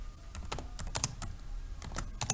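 Computer keyboard typing while writing C++ code, a run of quick irregular clicks with brief pauses, fairly close and moderately loud, no talking.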